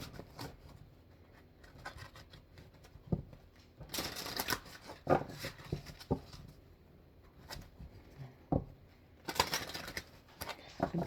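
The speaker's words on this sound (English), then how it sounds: "I do have to shuffle a couple times because I wasn't ready." Oracle cards being shuffled by hand, several separate bursts of riffling and flicking, close and fairly quiet, with soft handling noises between shuffles and no talking.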